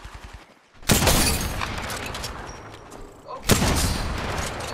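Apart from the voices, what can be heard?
gunfire in the video game Apex Legends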